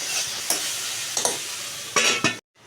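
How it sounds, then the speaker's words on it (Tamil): Brinjal stir-fry softening in a pan sizzles steadily while a spoon scrapes through it in a few distinct strokes, the last two close together, before the sound cuts off abruptly into silence. "ஒரு கிளறி விட்டு மூடி வைக்கலாம்"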